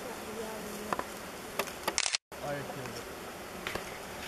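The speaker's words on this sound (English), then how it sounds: "It's a lot of bees." A honey bee swarm buzzes faintly in a white fir tree under people talking nearby, with a brief gap of silence partway through.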